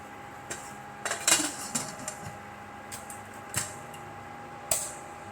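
A steel pressure cooker holding chana dal with pumpkin is closed with its lid, making scattered metallic clinks and clacks, a couple sharper than the rest, quiet and close over low background hum.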